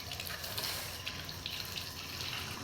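Water runs steadily from a tap, a constant hissing splash heard at moderate distance, with no talk over it.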